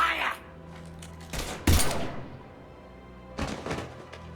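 Gunfire in the video game Mass Effect 3: a few sharp, heavy bursts of shots separated by quieter gaps, loud and close, with game dialogue around them.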